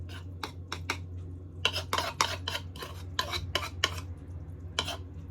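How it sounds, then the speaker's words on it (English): Boiled potatoes with butter are mashed for a cottage pie, giving a run of close, wet squelching and scraping strokes in an uneven rhythm over a low steady hum. "So guys, we're gonna mash our potatoes"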